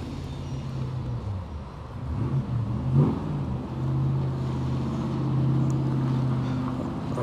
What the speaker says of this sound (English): I can hear a car behind me.